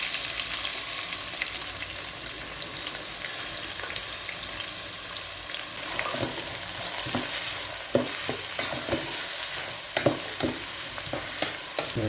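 Large onions sizzling in hot oil with fenugreek in a pan while cooking okra tamarind curry, a constant close frying hiss broken by repeated scraping stirs of a spoon against the pan.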